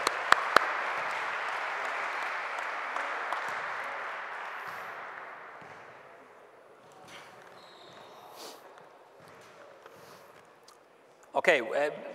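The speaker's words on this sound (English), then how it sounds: "let's give these guys a round of applause" An audience at a basketball coaches' clinic on team defense applauds, a broad burst of clapping that fades over several seconds, followed by scattered movement and a few sharp knocks near the end.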